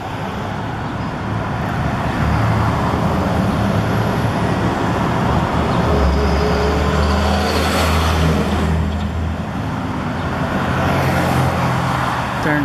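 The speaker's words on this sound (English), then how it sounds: "Darn trucks." Trucks and other traffic rumbling past on a city street, a heavy low engine drone that swells as a big vehicle passes close, loud and continuous with no talk.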